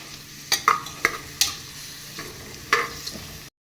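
Green chillies, onion and curry leaves stirred in a pan for mutton curry, with a spoon scraping and clacking in several sharp strokes over a steady low sizzle of frying oil.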